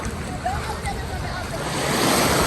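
Rushing water at Dunn's River Falls in Jamaica, a dense, steady roar of pouring cascade heard close up that swells slightly toward the end.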